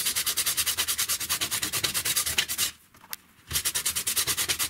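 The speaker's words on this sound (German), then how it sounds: "Da brauchen wir jetzt ein Schleifpapier und schleifen uns erstmal den Grat ab, der hier oben drauf ist." Sandpaper rubs against the edge of a resin coaster in quick, even back-and-forth strokes, close and regular, with a brief pause before the sanding starts again.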